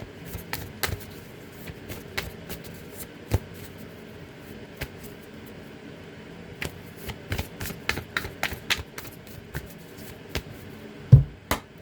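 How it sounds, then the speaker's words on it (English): Tarot cards riffle and shuffle in quick bursts of crisp papery clicks and taps, close up, with pauses between runs and no talking. "Get a good shuffle."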